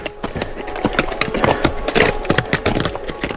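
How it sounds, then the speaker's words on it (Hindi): Dense, rapid clip-clopping of horse hooves on the trail to Kolsay Lake, Kazakhstan, loud and busy, with many overlapping knocks and no pauses. "घोड़े की टाप हमें लालच दे रही थी।"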